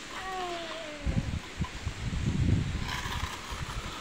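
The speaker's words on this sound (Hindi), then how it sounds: "ये देखो कितनी तेज हवा चल रही है।" Strong wind rushes and buffets in gusts outdoors before a rainstorm, a steady roar with rustling, loudest in the middle, with no talk.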